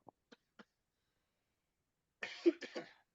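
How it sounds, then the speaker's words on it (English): A man hosting a tabletop game talk show coughs three times, short, soft and isolated, then clears his throat with a louder, rougher burst about two seconds later; close and quiet otherwise. "got a little tickle cough"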